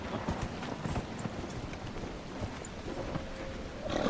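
Hooves clip-clop in a quick galloping rhythm from a horse in the video game Dragon Age Inquisition, over a busy, noisy background, steady and moderately loud throughout with no talking.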